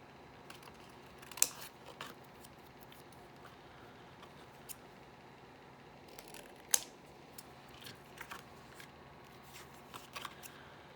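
Scissors snipping through postcards, faint scattered crisp cuts and paper rustles in a quiet room, with a couple of sharper snips standing out and no talk.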